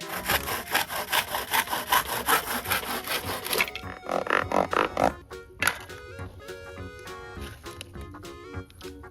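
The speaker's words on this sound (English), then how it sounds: "Handsaw." A handsaw cuts through wood in quick, rhythmic, rasping back-and-forth strokes, loud and close, then slows to a few scattered strokes and scrapes as the cut ends.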